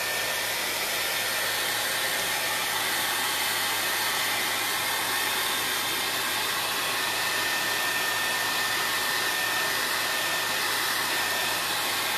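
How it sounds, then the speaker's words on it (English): A hair dryer blows steadily at close range over seashells, a constant loud whooshing hum with no pauses and no voices. "Now we're fixing to use our hair dryer and dry the brown that's on the shells"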